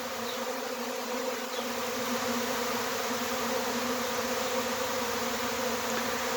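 A honeybee swarm moving in near a hive, with a steady, dense buzzing drone that fills the whole stretch at an even, fairly loud level without pause.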